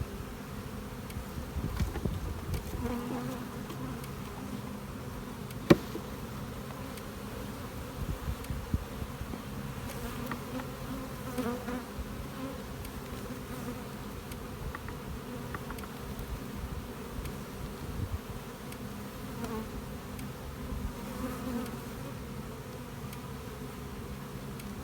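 Honey bees swarming around an open overwintered nuc hive, a steady close buzzing drone that carries on continuously throughout, with occasional light knocks and handling noises from the hive work.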